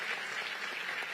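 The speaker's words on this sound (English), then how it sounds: "Another round of applause for the panel and for the moderators." Brief burst of steady audience applause for a panel and moderators at a forum, dense and even, heard alone for about a second.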